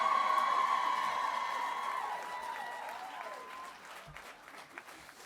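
Audience applause at a university graduation ceremony in Chelmsford, a dense wash of many hands clapping that slowly fades and thins, with a ringing tone and feedback-like whistle above it and a few stray claps at the end.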